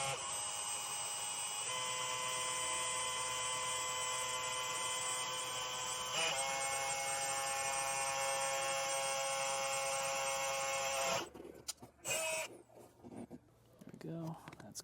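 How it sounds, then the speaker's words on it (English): A steady high-pitched motorized whir of a 5/8 drill bit drilling through on a 2022 GMC Sierra drones on for several seconds, then cuts off into scattered clicks and handling noises. "Using a 5/8 drill bit, we will now drill through."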